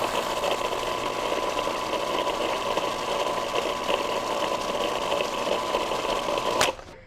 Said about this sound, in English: And then I'm going to grind this some more.